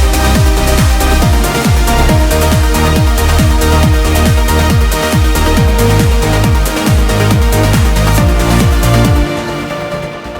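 A trance track mix produced in Ableton Live plays loud and full with no stereo widening, a steady four-on-the-floor kick pumping under layered synths for about nine seconds before the sound thins out near the end.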